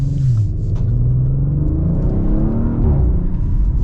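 A 2023 Audi RS5 engine roars loudly and steadily in dynamic mode, a deep continuous rumble with rising revs held close up throughout with no talking.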